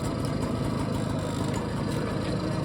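A BSA Ariel 3 moped engine, smoking while fuel starvation is investigated, idles with a steady, close, continuous low putter.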